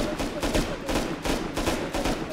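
Gunfire in the video game Rust, several bursts of rapid shots in quick succession, loud and close, with no talk over it.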